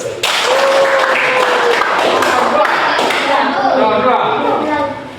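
Audience clapping fills a lecture-style gathering, a steady dense patter of many hands running almost the whole time, with a voice carrying over it and fading near the end.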